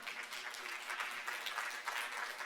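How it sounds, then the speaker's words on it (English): A crowd at a World Food Day panel on food policy and hunger applauds a speaker, a continuous, even wash of clapping heard at moderate distance. "Give her a round of applause."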